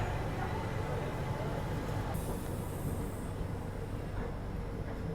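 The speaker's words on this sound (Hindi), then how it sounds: "मात्र 5 मिनट ट्रेन यहाँ पे रुकी और अपना डिपार्चर हो गया यहाँ से" The Shreedham Express pulls out of a station, a steady rumble of rolling train wheels and carriages heard from on board, continuous and moderately loud throughout with no talk.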